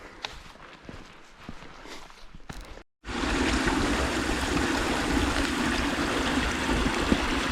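A small stream flows at a trail water crossing in Morgan-Monroe State Forest, Indiana, heard first as faint trickling under footsteps, then as a loud, steady close rush after a brief gap.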